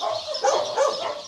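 Dogs at a dog shelter bark in short, yappy bursts, several overlapping calls close by against a busy kennel background, with no talk.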